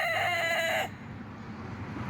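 Chickens in a backyard coop: a drawn-out crow trails off, then low, soft clucking and shuffling continue. The birds sound close, and no one speaks.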